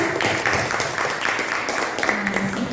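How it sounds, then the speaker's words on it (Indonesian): A room full of people claps for group 1 after their presentation in a teachers' coaching session, a dense, steady patter of many hands lasting throughout, with faint voices mixed underneath. "Kasih aplaus untuk kelompok 1"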